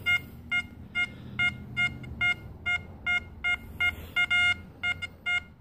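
An XP Deus metal detector sounding over a musket ball, a repeated series of short, bright electronic beeps in a fairly regular rhythm, a couple doubled, over faint low background noise.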